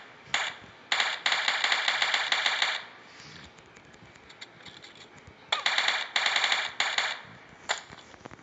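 Bursts of rapid gunfire from a shooter video game, Battleground, crackle in several loud, dense volleys separated by short quieter gaps, with a few isolated single shots near the end.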